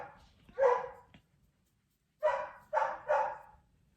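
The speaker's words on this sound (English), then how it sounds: "my dogs love to bark. So if you hear barking, that's why." Pet dogs bark indoors: one bark, a pause, then three quick barks in a row, moderately loud and close, with no talking over them.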